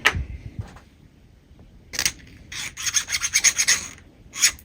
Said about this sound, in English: There you go, it slides.